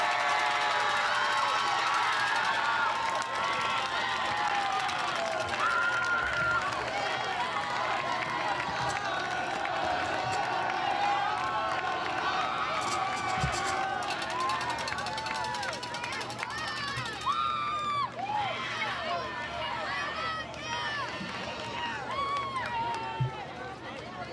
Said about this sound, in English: How about another round of applause for all of our award recipients?